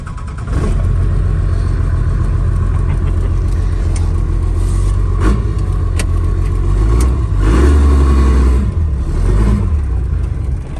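A car engine runs loudly and steadily, with a rough, uneven note and a few sharp knocks, holding at a constant level throughout.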